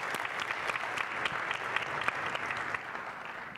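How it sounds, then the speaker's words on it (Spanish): An audience applauding the panelists after a panel session, a continuous patter of many hands at moderate, roomy distance, easing off slightly at the end. "Un aplauso para los panelistas que participaron en el día de hoy."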